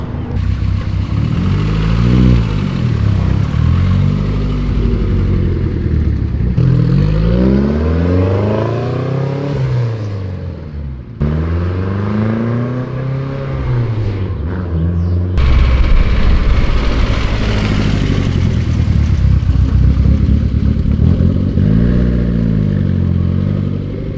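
A turbocharged BMW E30 M3 engine revs hard again and again on a country road, hitting the rev limiter, pitch sweeping up and dropping between gear changes, loud and continuous for the whole stretch.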